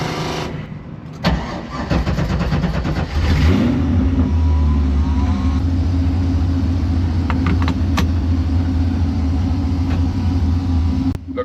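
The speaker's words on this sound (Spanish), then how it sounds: "Vamos a hacer un par de pruebas, a ver qué tal está el carrito y les dejo saber." A Corvette C5 track-project car engine starts and revs up, then holds a loud, steady mid-pitched rumble through the rest of the stretch, with a few sharp clicks near the end.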